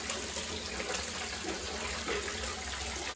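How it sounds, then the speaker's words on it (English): Tap water running steadily at a sink to wash a child's natural hair, a constant close rushing flow with no pauses and no talking. "Come on, Baby G, let's go wash them."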